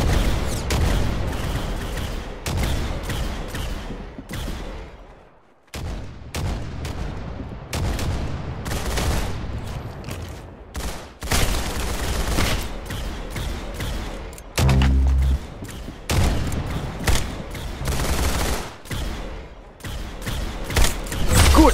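Rapid bursts of gunfire in the Roblox shooter Arsenal crackle continuously, with dense repeated shots and brief pauses, loud and close throughout.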